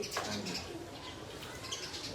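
Pigeons kept in a fancier's loft coo quietly, with a brief flutter of wings near the start and faint chirps over low background noise.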